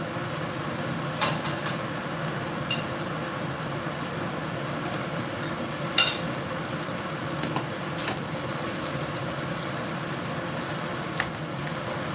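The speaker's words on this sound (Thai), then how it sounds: "วันนี้จะผัดหมูล้วนๆเผาหมูล้วนๆเลยนะคะ" Minced pork stir-frying for Thai holy basil pork, a steady dense sizzle in the pan throughout with occasional scrapes and clicks of stirring, no voices.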